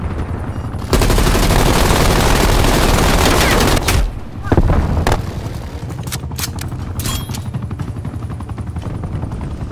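Rapid sentry turret gunfire in a Call of Duty: Black Ops Cold War multiplayer match, a loud sustained burst for several seconds that drops out sharply, then scattered shots and bursts continue amid game noise.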